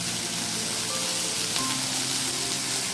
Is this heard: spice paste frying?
yes